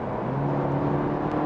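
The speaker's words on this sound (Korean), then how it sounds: "엑셀의 발을 좀 세게 이렇게 눌러보면" BMW 320i turbocharged petrol engine under hard acceleration, a steady low engine drone with a sustained tonal hum, heard from inside the cabin at moderate level with no talking.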